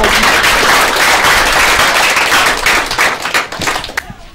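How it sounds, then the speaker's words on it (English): A church congregation in a Nigerian film claps loudly and densely in praise, sharp overlapping hand claps that thin into scattered individual claps and fade near the end. "Clap for Jesus."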